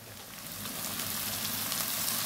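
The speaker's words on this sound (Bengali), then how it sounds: "আমি ভর্তা বানানোর জন্য কাঁঠালের বিচি ভেজে নিলাম" Jackfruit seeds fry in a pan with a steady, crackling sizzle that swells slightly louder over the couple of seconds, with no voices.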